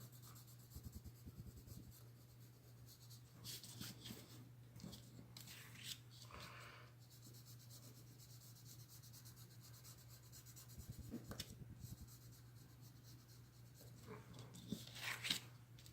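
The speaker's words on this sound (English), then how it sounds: "Now I'm going to go around the edge of the card with my pencil" A pencil traces around the edge of a card, giving faint, close scratchy strokes in short bursts with quiet gaps against a low steady hum.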